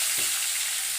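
Tengra fish frying in hot oil crackle and spatter, a loud, continuous, close-up sizzle with bursts of popping throughout.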